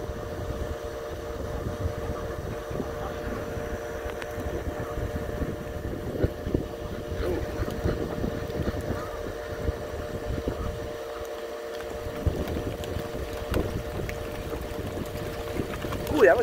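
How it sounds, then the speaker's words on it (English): Steady outdoor wind, a continuous broad rushing noise that holds for the whole stretch at moderate level, with no clear gusts or pauses. "Wind picked up."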